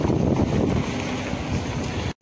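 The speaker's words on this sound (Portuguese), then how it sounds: "tá tendo um pouquinho de vento aqui" Wind buffeting a cheap smartphone's microphone outdoors, a loud continuous low roar and rustle that drops out briefly near the end.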